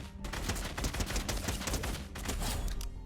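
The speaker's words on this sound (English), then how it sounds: "my friend Armaster, and we're going to be doing an aim duel, and the winner is the best on 30 FPS" Rapid, continuous gunfire from an aim duel in the video game Fortnite on Nintendo Switch, dense bursts of shots running without a break, loud and close, with no talking.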